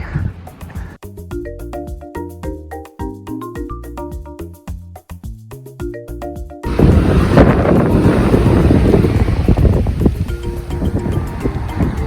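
A melodic tune plays first, then a loud, broad rush of sea surf takes over and roars continuously until the end, near the street in Philipsburg, St Maarten.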